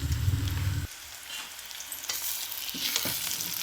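Ginger garlic paste and minced mutton keema frying in a pan, a steady close sizzle with a low hum in the first second, then scraping stir strokes and brighter crackle near the end.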